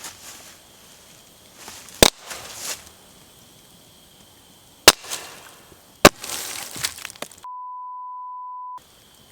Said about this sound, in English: These rocks are not working out. They're exploding in the fire.